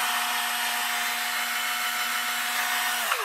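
A cordless drill rewired to run from a car battery whirs steadily at constant speed for about three seconds, then winds down sharply as the trigger is released, heard alone and close.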